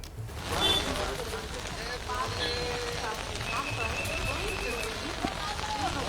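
Steady rain falls outdoors during a Hindi news report on Kanwar pilgrims in Uttar Pradesh, a constant loud hiss and patter with faint voices beneath it.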